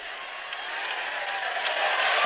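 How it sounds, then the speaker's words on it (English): A crowd at a college wrestling meet between Iowa and Michigan fills the arena with a dense, swelling roar that grows slightly louder over a couple of seconds. "The crowd is counting out loud for him."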